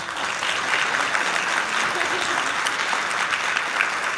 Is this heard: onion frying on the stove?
no